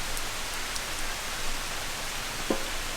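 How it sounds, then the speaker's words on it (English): Steady rain coming down outside on a rainy day, a constant dense hiss with no talk, heard alone at a moderate level. "This is a rainy day. It's coming down out there."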